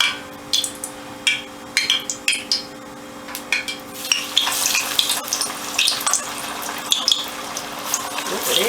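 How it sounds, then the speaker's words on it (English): Hot grease frying in a pan before tilapia goes in, rising from sparse crackles and pops into a dense, continuous spattering sizzle close to the listener, with a few utensil clinks and no talk. "you hear that grease? You hear how that grease is going?"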